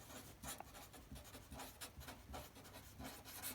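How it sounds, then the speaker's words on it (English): A pen writes out a maths statement by hand on paper, faint scratchy strokes in short irregular bursts, quiet and close with no talking. "Write a statement."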